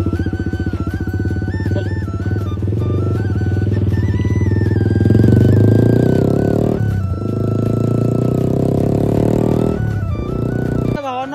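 A Yamaha MT-15 motorcycle fitted with an Akrapovic full-system exhaust is ridden close by, its loud engine note rising and falling through revs and gear changes, with a sharp drop-off at the very end.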